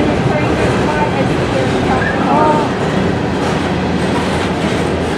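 An empty Norfolk Southern coal train passing at a railroad festival in Appomattox, Virginia: a loud, continuous rumble with clattering wheels and a brief squeal, with people talking nearby.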